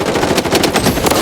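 Rapid, loud automatic rifle fire from an M4 in the Blood Strike shooter game, a dense continuous burst of shots with no speech over it.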